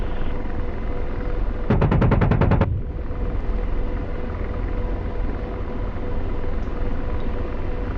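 The 30mm cannon of an AH-64 Apache helicopter in the DCS flight simulator fires one short burst of roughly ten rapid, evenly spaced rounds. The shots cut through a steady, loud rotor and engine drone, which continues after the burst ends.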